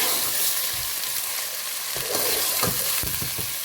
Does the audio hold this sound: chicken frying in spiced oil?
yes